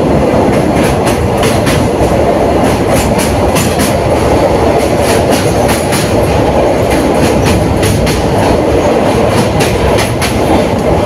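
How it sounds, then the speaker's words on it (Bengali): A train crosses the Bali railway bridge at Dakshineswar with a loud, continuous rumble and rhythmic clickety-clack of wheels, heard from on board throughout with no speech. "আমরা এখন দক্ষিণেশ্বর বালি যে রেলওয়ে ব্রিজটা আছে সেটা পার করছি"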